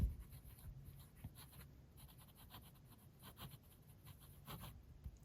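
A TWSBI Eco T fountain pen scratches faintly across paper in a reverse-writing stroke, a soft continuous rasp with small strokes close up in a quiet room.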